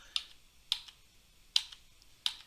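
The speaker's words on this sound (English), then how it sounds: "The Control and up and down arrow keys work the same way." Four separate, crisp clicks of computer keyboard keys sound close and quiet, spaced irregularly about half a second to a second apart, as Control and arrow keys are pressed.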